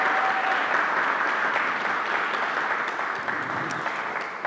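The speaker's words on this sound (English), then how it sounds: "Can we give them a round of applause?" Steady, dense audience applause at a museum fireside chat for young panelists, a full room clapping continuously at an even level before tapering slightly at the end.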